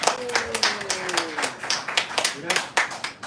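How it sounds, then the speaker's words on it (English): Scattered clapping for authors at a book press conference, sparse uneven hand claps underneath a voice talking over the top. "let us all give a round of applause to our authors this afternoon"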